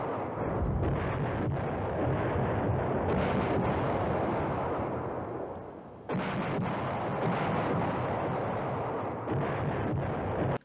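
Rumbling, continuous battle gunfire and artillery in the wartime strategy game Command Ops 2, loud and dense throughout, briefly easing mid-way before surging back.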